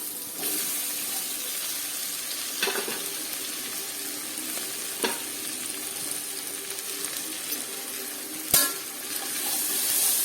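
Onions sautéing with pepper powder in a pan for a vegetable stew give a steady sizzle, broken by a few sharp scrapes and taps of the spoon stirring them.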